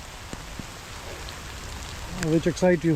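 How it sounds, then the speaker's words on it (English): Heavy rain pours down along a forest trail during a rainy ride, giving a steady broadband hiss that stays constant throughout, with a person speaking over it near the end. "You can see it started pouring heavy"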